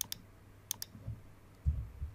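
A computer mouse clicking on a Windows 10 PC, a few sharp, close clicks in two quick pairs, followed by faint low thumps in a quiet room.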